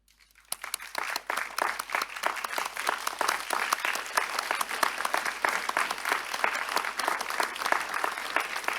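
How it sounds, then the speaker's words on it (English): Audience applause fills a graduation ceremony hall in Singapore after a brief quiet start, dense steady clapping from many hands continuing throughout at a close, even level. "give them a big round of applause or hug"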